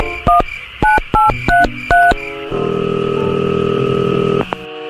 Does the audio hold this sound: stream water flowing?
no